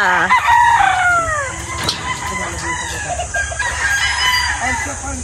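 Gamefowl roosters at a game farm crow repeatedly, with several overlapping calls close by and loud, alongside scattered clucking and steady farmyard background noise.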